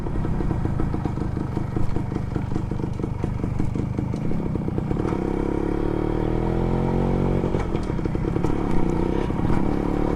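A Suzuki Max 100R motorcycle's small single-cylinder engine runs steadily close by, its fast, even putter turning into a smoother, rising note partway through as it is revved or ridden, with no voices over it.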